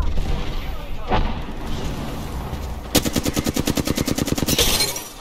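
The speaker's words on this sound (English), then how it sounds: "Oh shit, I'm getting shot" Gunfire in a fast-paced multiplayer shooter game: scattered shots first, then a loud, rapid burst of automatic fire with evenly spaced cracks for about two seconds, ending in a heavier final blast.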